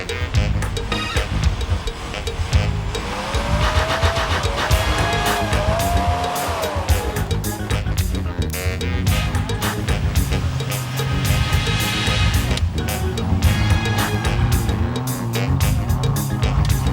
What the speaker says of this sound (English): the teams concluded their driving tests along the sand